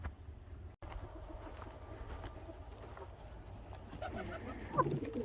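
High flyer pigeons coo softly inside a loft, faint low murmurs with light shuffling and a few brighter calls toward the end, with a brief voice in the background.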